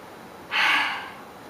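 One sharp, breathy inhalation, close and clear, swelling quickly and then fading over about a second.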